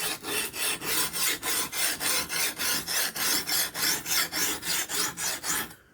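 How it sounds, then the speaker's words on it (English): A knife is ground on a Ruixin Pro sharpener in a regular back-and-forth rasp, about twenty close, even strokes in a steady rhythm before the scraping stops abruptly at the end. "you'll notice a tone difference in the grinding action"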